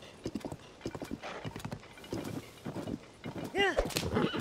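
A horse gallops in The Legend of Zelda: Tears of the Kingdom with rhythmic clip-clopping hooves and a rising whinny near the end, while a voice talks over it.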